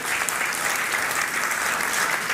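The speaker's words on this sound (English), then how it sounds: "give our speakers a big round of applause" Steady, dense audience applause for the speakers at a live satellite launch event, loud and unbroken for the whole short stretch.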